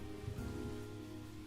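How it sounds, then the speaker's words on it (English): Rain in Planet Zoo, in a South American grasslands biome, pours as a dense, even patter over a brief stretch, alone and without speech. "It is raining."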